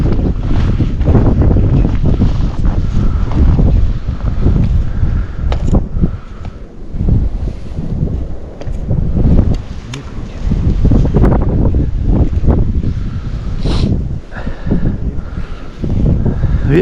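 A strong blizzard wind blows outdoors on a fishing trip. Loud, continuous gusting roars against the microphone, with surging, rumbling buffets that rise and fall throughout and only brief lulls.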